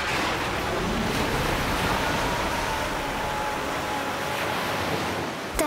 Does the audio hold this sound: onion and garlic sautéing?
no